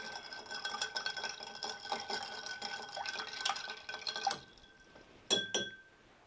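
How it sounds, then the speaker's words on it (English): A bar spoon stirs a cocktail of spirits with dashes of orange bitters over ice in a mixing glass, giving a steady run of light clinks and rattles. Two sharper glassy knocks follow near the end. "Now we're going to stir this to chill it and dilute it."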